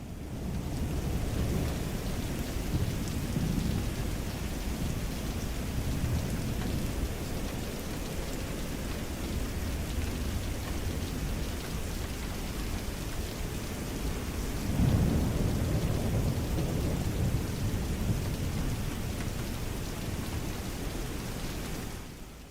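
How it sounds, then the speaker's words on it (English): Steady rain pours down during a thunderstorm in Microsoft Flight Simulator 2024, with low rolling thunder rumbling throughout and a stronger swell near the end; loud, dense and continuous with no talk. "There's thunderstorms in the sim for you."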